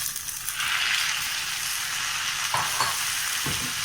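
Golden brown onions frying in a pan for malai kofta hiss loudly as tomatoes are added, with a steady close sizzle and a few stirring scrapes near the end.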